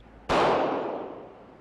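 A single sharp, loud report from a .40 caliber pistol firing a 165 grain bullet in a ballistics penetration test, with a brief decaying echo afterward.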